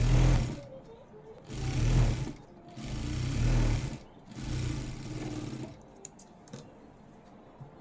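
Home sewing machine running bursts of straight stitching on a blouse, about three sustained whirring runs separated by short pauses, close and fairly loud, ending with quieter clicks and handling.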